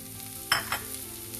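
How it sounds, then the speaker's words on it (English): Peanuts fry in hot oil in a pan with a faint steady sizzle, broken by two quick scraping stirs close by. "We'll fry till peanuts gets roasted."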